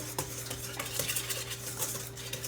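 Sugar and dry ingredients for vanilla scones are whisked together in a bowl, producing quick rhythmic metal taps and scrapes against the bowl, close and fairly faint, with a low steady hum underneath.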